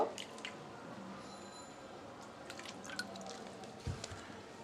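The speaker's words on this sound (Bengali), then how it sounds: "এবার অল্প অল্প নর্মাল পানি দিয়ে আমি একটা ডু তৈরি করে নিব" Water added little by little to momo dough and worked in by hand, giving soft, close wet squishes and drips in a quiet room with a faint background hum.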